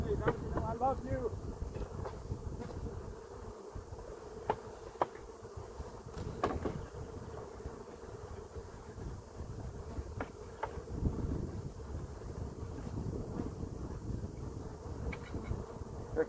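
Honey bees buzz steadily around a hive during an installation, a dense continuous drone with wind noise on the microphone and a few sharp knocks scattered through.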